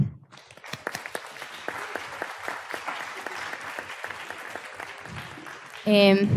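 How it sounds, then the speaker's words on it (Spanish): An audience at a panel session on cinema and propaganda applauds steadily, a dense, even crowd clapping that fades near the end before a voice begins speaking close to the microphone. "antes de empezar les pido que les demos un aplauso"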